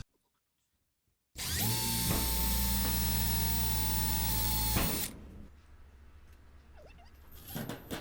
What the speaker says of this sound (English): I'm going to drill a pilot hole in this widest place that will allow for a screw to pass through without passing through that